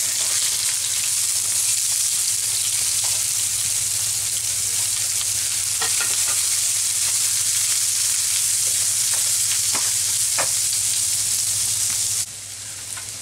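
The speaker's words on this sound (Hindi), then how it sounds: "तेल गर्म भी हो चुका है, अब मैं प्याज को डाल देती हूँ।" Onion, potato and chili frying together in hot mustard oil give a loud, steady sizzle that runs almost unbroken, with occasional crackles and pops, before it drops off sharply near the end.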